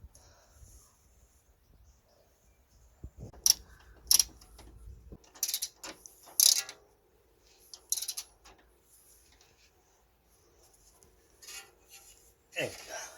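A wrench tightens the rear strut top mount bolts on a Mini Countryman during a broken coil spring repair, giving scattered sharp metallic clicks and ratcheting bursts at irregular intervals, with someone speaking between them.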